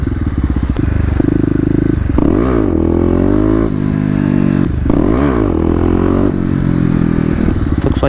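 A Kawasaki KLX250 with new modifications is ridden hard, its engine loud and close as it revs up and down in repeated surges, with wind noise over the top throughout.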